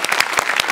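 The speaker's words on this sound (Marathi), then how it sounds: "आपल्या सगळ्यांसाठी आपण एकदा जोरदार टाळ्या वाजवायला पाहिजे." A brief burst of loud, dense audience applause on the Marathi TV comedy show Maharashtrachi HasyaJatra, with sharp overlapping claps close by.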